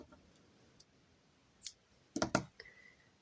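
Scissors snipping yarn after crocheting a pumpkin granny square, a few faint separate clicks and then a quick cluster of sharper snips near the end, in an otherwise quiet room.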